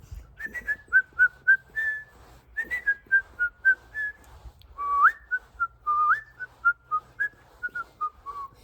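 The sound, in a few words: voice imitating whistling a tune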